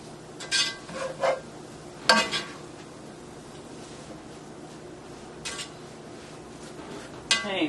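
A utensil stirring lemon herb kale sautéing in a pan, with a few sharp scrapes and clinks against the metal over a quiet low sizzle.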